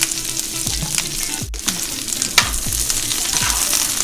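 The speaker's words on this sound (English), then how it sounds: "unsalted butter is going to go over here in this pan" Onions fry in unsalted butter in a pan, a loud continuous sizzle punctuated by repeated utensil scrapes and knocks every half second or so, with no talking.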